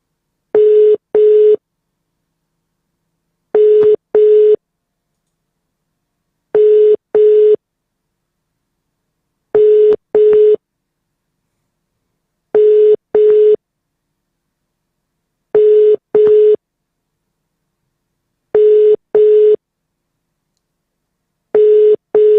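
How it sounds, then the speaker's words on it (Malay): Telephone call ringing tone: eight evenly spaced double-pulse rings, each pair a steady mid-pitched tone, repeating about every three seconds, loud and clean with silence between and no voices. "Jom kita telefon sekarang."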